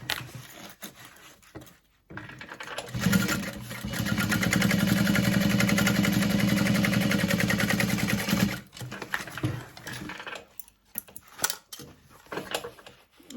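A sewing machine top stitches a tote bag in one long steady run of several seconds, flanked by quieter handling noises and clicks before and after.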